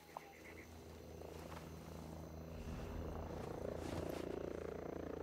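Helicopter in the video game Ghost Recon, a faint, steady rotor drone that grows slightly louder and closer over the few seconds, with a soft tonal engine whine.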